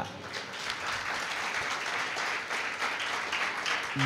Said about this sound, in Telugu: క్లాప్స్ కొట్టాల గట్టిగా.